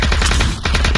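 Rapid automatic gunfire from the VR shooter game Aim XR, a loud close burst of about a dozen evenly spaced shots with a brief gap in the middle, with no talking.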